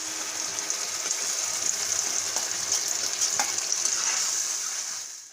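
Steady, loud sizzling of pureed tomato poured into a hot pan for capsicum and onion gravy, with faint scraping and stirring throughout.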